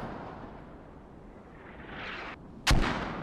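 Mortar fire in the Squad video game: a low rumbling roar builds and rises, then one sharp, loud close launch blast rings out and echoes into a rumbling tail.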